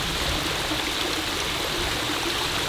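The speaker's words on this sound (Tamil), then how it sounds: "அந்த வாட்டர் ஃபால் வந்து இங்கே தான் இருக்கு பாருங்க." A natural jungle waterfall in Coorg pours with a steady, loud, full rushing roar that stays even throughout, with no voices.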